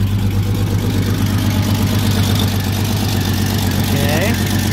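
A 1989 Jeep Cherokee engine idles steadily after an injector swap, a smooth low rumble running close and loud throughout, with a faint voice briefly audible near the end.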